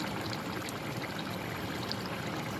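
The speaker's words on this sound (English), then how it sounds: "I will cover this and let it boil for some time." Chickpea masala (chole) boiling in a covered pot, a steady dense bubbling and hissing that carries on without pause, close and moderately loud.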